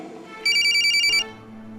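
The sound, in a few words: telephone ringing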